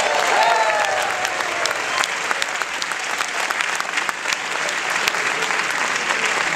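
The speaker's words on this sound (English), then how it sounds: "let's hear for the projectionist, Joe!" A theater audience at a midnight film screening applauds the projectionist, with steady, dense clapping throughout, loud and close, plus a brief whistle near the start.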